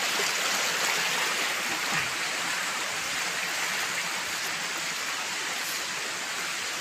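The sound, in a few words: river stream flowing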